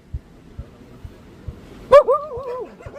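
A dog called Chucky lets out a single close bark that breaks into a whining, wavering yelp, after a few soft low thumps.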